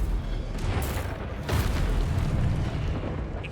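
A roaring fiery burst from the Incendio spell in Hogwarts Legacy, a broad rushing blast with a sharper flare midway, loud and sustained for a few seconds.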